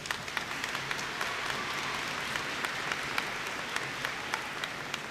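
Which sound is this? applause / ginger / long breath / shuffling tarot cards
applause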